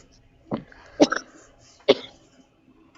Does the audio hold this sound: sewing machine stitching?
no